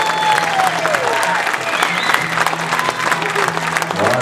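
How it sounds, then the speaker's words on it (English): A live audience applauds a family gospel singing group, steady clapping filling the room for several seconds with a few cheers mixed in. "Give them a round of applause."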